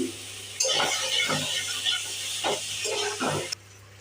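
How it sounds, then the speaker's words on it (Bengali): Mashed boiled potatoes being fried and stirred in a pan for a Bengali aloo bharta, a steady hiss with a few scraping clatters of the spatula against the pan, close and moderately loud, then stopping abruptly. "ভাজা ভাজা করি।"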